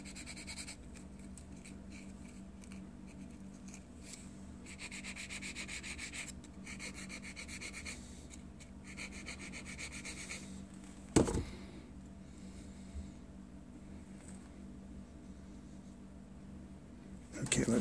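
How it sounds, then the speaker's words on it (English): Hand sanding of a Titanic wreck diorama model: soft, close rasping strokes in several bursts, quiet overall, with one sharp knock partway through and a voice faintly in the background. "I think I want to sand it a little more."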